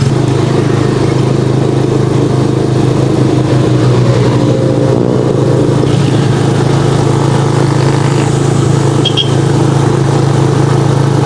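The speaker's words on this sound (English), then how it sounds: "This is Tricycle Riding 101, guys, dito sa Pilipinas." Motorcycle tricycle engine droning steadily and loudly throughout a ride in the Philippines, with continuous road rumble and no talking.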